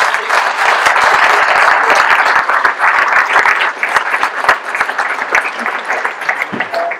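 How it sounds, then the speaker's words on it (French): Audience at a mayor's New Year greetings ceremony in Saint-Guyomard applauds loudly, dense clapping that holds steady and then thins out into scattered claps near the end. "Je pense qu'on peut les applaudir."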